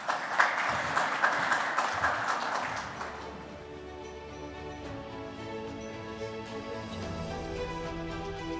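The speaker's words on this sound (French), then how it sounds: "sous vos applaudissements" Applause from a workshop audience at an industry event's opening session, dense clapping for about three seconds that then gives way to a sustained tonal musical backdrop.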